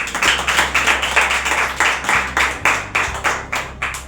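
A congregation at a Pentecost Sunday church service claps loudly in a steady rhythmic beat, about four claps per second, over a low hum of music.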